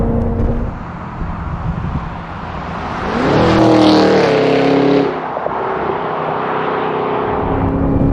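A 2022 Cadillac Escalade V SUV with a 10-speed transmission drives at speed, its engine droning, then rising in a loud rev as it accelerates before settling back to a steady cruising roar.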